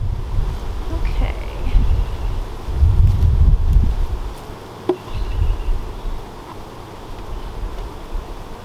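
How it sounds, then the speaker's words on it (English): Honey bees buzzing around an opened hive super during requeening, a dense low hum with soft wind and rustle over it, swelling and easing across the clip, close to the microphone. "Pretty decent number of bees up in the super."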